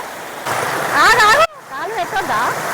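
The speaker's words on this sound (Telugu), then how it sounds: "ఎంతో ఫేమస్ అయిన బోడకొండ వాటర్ ఫాల్ ఇది" Bodakonda waterfall roars as a steady broadband rush of falling water, close by, while a person talks loudly over it through most of the moment.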